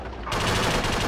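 Machine gun fire in the military shooter game Project Reality: a sudden dense, continuous burst of rapid gunfire breaking out after a brief quiet moment and sustained loudly to the end.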